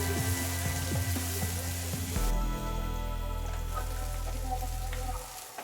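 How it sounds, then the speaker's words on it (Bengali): Chopped onions frying in hot oil for a Bengali bitter gourd fry, a steady close sizzle that drops to a softer, quieter crackle partway through. "আমার পেঁয়াজ থেকে ভেজে নেওয়া হয়ে গেছে"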